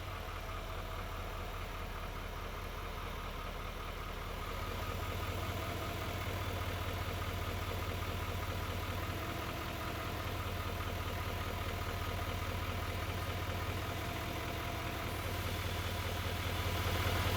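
A 2017 Silverado 2500 HD with a 5-inch lift kit idles steadily with a low, even rumble and constant mechanical hum that builds slightly toward the end, with no talking.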